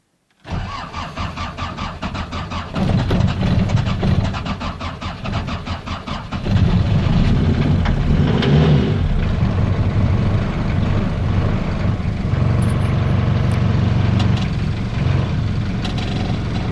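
A Lublin delivery van's engine cranks and catches after a glow-plug wait, then settles into a loud, steady, rough idle that rises in level partway through, heard close and alone.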